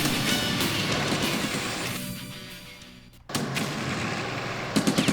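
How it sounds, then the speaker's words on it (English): Incoming fire in the strategy video game Stalingrad: a continuous rumbling barrage that fades, goes briefly quiet, then surges back with a few sharp cracks of gunfire near the end, with no voices. "We're taking shots. I don't know from where."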